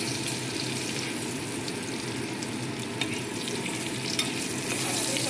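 Potatoes seasoned with turmeric fry in hot oil, a dense, continuous close-up sizzle with stirring scrapes and a few sharp pops throughout, with no talking.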